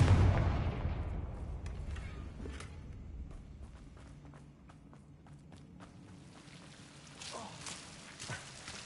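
A Confringo fire spell in the video game Hogwarts Legacy goes off as one loud, near blast that fades into a low rumble, with faint crackles and clicks trailing after it.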